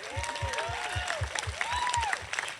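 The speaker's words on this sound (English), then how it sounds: "Can we just clap all together?" A crowd at an outdoor Juneteenth celebration claps together in a steady, unified rhythm of about four beats per second, with cheering and whistles rising over the clapping.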